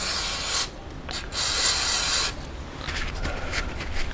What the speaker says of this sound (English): Get all that carb cleaner cleaned off of there real quick.